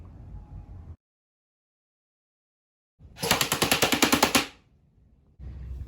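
An airsoft gun powered by an 11.1 V LiPo battery fires one rapid full-auto burst of about a second and a half, a dense, even chatter outdoors. Near silence precedes it, and faint background noise sits at either end.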